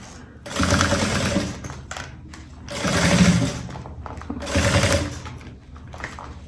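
A sewing machine stitches a fabric pencil case with a carrying strap in three loud bursts of running, each about a second long, with short pauses between them as the piece is repositioned.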